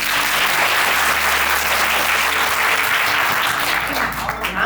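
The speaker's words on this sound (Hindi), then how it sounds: "आप तालियों से स्वागत करें।" An audience at a motivational talk gives loud, sustained welcoming applause, thick and even, fading slightly at the very end.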